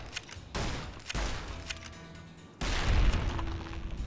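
Gunfire from the video game Fallout: New Vegas, a few sharp shots and a heavier boom spread across a few seconds with no talk.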